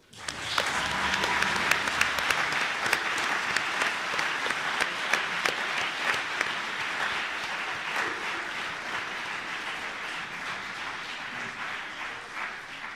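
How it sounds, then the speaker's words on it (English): A conference audience at the BALMUN 2023 closing ceremony applauds General Assembly committee delegates with sustained, dense clapping that starts abruptly and continues steadily, fading slightly toward the end. "Delegates of the GA4, please rise. This applause is for you."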